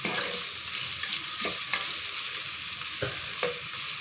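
Chopped onion and ginger paste frying in hot oil, giving a continuous bright hiss of sizzling with a few light stirring scrapes, close by and free of any voices.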